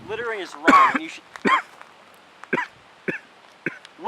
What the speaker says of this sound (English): What did I tell you about the coughing?